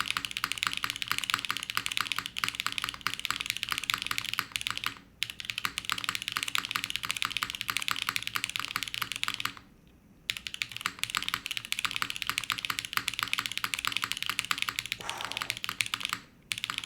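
Fast, steady typing on a Matrix mechanical computer keyboard, crisp close key clacks in a dense rhythm, broken by three brief pauses.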